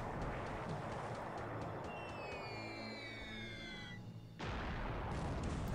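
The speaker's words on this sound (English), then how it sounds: "Internal explosion." Internal ship explosion in the War in the Pacific video game: a sustained rumbling, crackling roar with whistling tones sliding downward, cutting out briefly before a fresh loud burst of noise resumes near the end.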